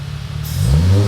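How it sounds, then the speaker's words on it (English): A supercharged Mercedes SLK320 with new intake and exhaust idles briefly, then its engine revs up sharply in a short, loud, rising burst heard up close. "Let's try to rev it."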